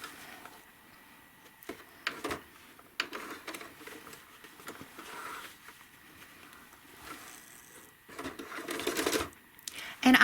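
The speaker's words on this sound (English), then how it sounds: "I'm going to stitch straight across, but I'm going to wiggle it a little bit" A sewing machine doing free-motion cross-hatch stitching across a fabric basket design gives faint, intermittent bursts of rapid mechanical clatter, with brief pauses between runs that grow louder toward the end.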